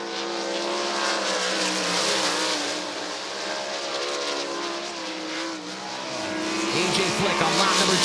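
A race car running a lap at a dirt track race during the 2024 Commonwealth Clash, a loud continuous engine roar that holds steady and swells toward the end as the car passes near.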